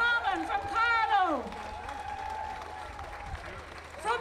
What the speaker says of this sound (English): because they deserve another round of applause